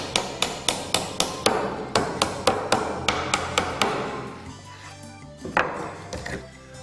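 A hammer strikes a wooden pallet being taken apart, a quick run of sharp, evenly spaced blows, about five in each burst, that pause briefly and then slow and fade into a few scattered knocks.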